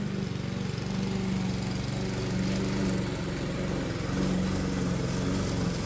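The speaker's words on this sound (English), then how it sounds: "So I'm out here checking my garden while Grandpa Veteran Dude is mowing the lawn." A lawn mower cuts grass in a backyard garden on a hot day, a steady droning engine hum with a buzzing rattle that holds constant and fairly close, with no speech.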